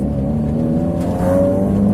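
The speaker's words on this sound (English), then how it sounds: "It's actually kind of idling pretty rich right now." A tuned Mazda Miata engine idles rich at close range, a steady low rumble with a faint rising whine near the end and no talking.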